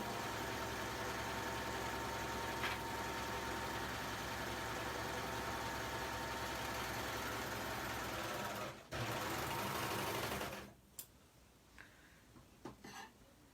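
A serger sewing machine set up with three threads runs in a fast, continuous mechanical whir for about ten seconds, briefly pausing once, then stops, leaving a few faint clicks and handling sounds.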